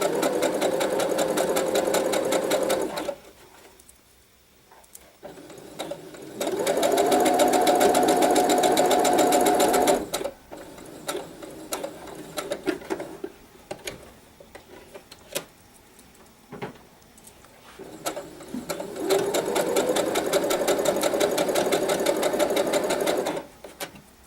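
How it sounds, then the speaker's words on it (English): A sewing machine stitches a pin cushion in steady bursts, its motor whirring loudly for several seconds at a time with short pauses between runs, close and alone with no talking. "And we'll just continue sewing on that line."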